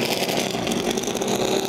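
A NASCAR number 78 stock car engine runs in a garage, a loud, steady, dense roar that holds for under two seconds with no talk.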